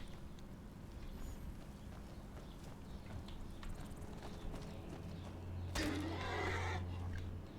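Horse hooves clop softly in the Skyrim video game, followed by a single loud neigh near the end, all fairly faint and distant.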